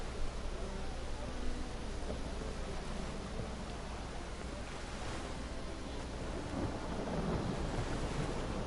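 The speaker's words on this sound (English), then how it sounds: "Rain again." Steady rainfall in the video game Witcher 3 hisses throughout with low rumbling thunder rolling underneath, a continuous stormy wash without clear breaks.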